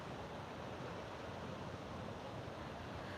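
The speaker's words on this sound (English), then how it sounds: "Just the sound of the ocean." Steady ocean surf at the San Diego oceanfront, a soft continuous wash of waves with some wind rush, heard alone without any talking.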